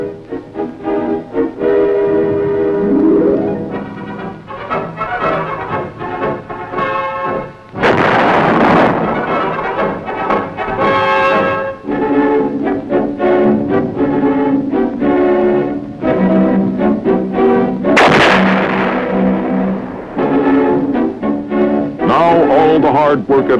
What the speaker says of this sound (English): when the big guns go into action, providing support for the men in the field.